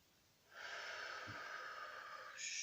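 A long, steady breathy exhale during a seated gentle exercise session, starting softly and holding an even airy hiss close to the listener for about two seconds before a brighter breath at the end.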